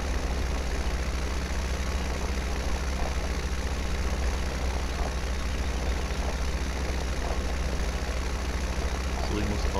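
A tractor idles in Farming Simulator 17 on the Südharz map, a continuous low, rumbling engine hum that holds steady and fairly loud throughout.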